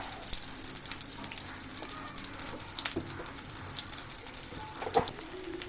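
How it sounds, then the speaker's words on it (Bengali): Onions and green chilies fry in mustard oil with a faint, steady sizzling hiss and a brief clink near the end, quiet and without talk. "এখন দিয়ে দেব সরিষার তেল, দিয়ে দেব কেটে রাখা পেঁয়াজ, কাঁচামরিচ"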